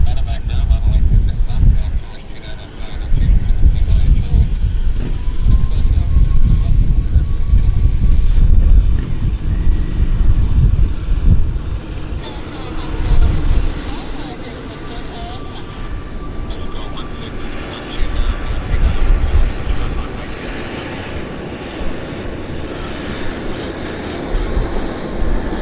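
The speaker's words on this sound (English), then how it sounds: "there's our Cargojet. Beautiful. It's landed on the other side, taxiing to its parking position." A Cargojet airliner lands at Vancouver Airport. A loud, rumbling jet roar persists throughout, heavy in the low end, with gusts of wind buffeting the microphone.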